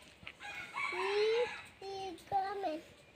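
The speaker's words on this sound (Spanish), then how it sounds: "Ahí están los pollos." Free-range hens and young chickens cluck and call up close in a few short, rising bursts, with a voice faintly mixed in.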